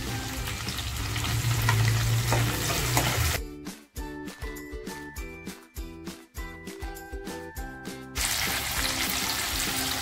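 Onion and tomato for a home-style vajri pulao go into hot oil and fry loudly, with a rush of sizzling and a run of rhythmic scraping stirs in the pan before the steady hiss resumes.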